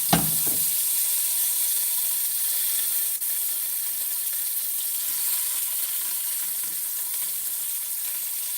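Beef for stew browning in a hot pan, a steady, close hiss of sizzling fat that holds evenly throughout, with a brief clatter at the start.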